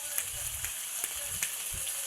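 String beans and eggplant sautéing in a pan for adobong sitaw with talong, a steady hissing sizzle with light intermittent stirring scrapes.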